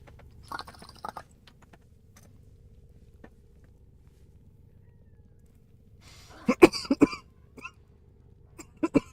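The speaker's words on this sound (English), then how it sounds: "Coughing my brains out." A person coughs a few times, brief bursts early then a louder cluster of harsh coughs later against a quiet room background.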